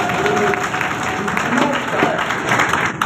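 Audience applause fills a hall during a motivational education lecture, a steady dense wash of many hands clapping throughout, fairly loud with a murmur of crowd underneath.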